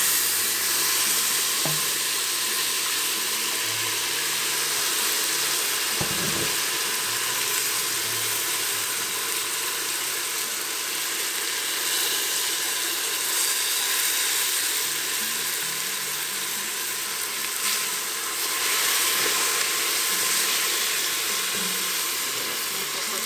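Sauce poured into a hot pan for a noodle soup with spinach, sizzling and hissing loudly and steadily throughout, with occasional stirring clinks.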